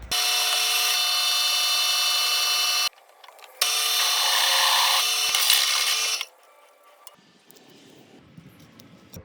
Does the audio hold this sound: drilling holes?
yes